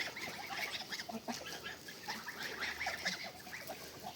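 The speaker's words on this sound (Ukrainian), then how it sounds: "Гусечки пасуться мої." Geese grazing honk and cackle in a busy scattered chorus, moderately close, with soft rustling beneath and no talking.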